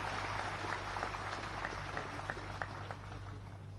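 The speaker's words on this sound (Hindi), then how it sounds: "आप सभी की तालियों की गड़गड़ाहट के साथ उन्हें बुलाते हैं।" An audience at a government event in Guwahati applauds to welcome the minister: a faint, distant patter of clapping over a low steady hum, with a few sharper individual claps standing out.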